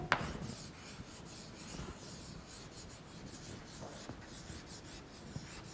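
Handwriting during a Mongolian language lesson, a quiet, close pen or pencil scratching across paper in short strokes, with a sharper tap at the start and no voices.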